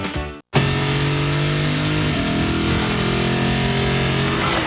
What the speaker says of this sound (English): The 6-cylinder, 8-speed Lexus GS.